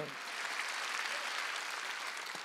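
A church congregation at a Korean Wednesday worship service applauds, a faint, even wash of many hands clapping that carries on steadily without a break.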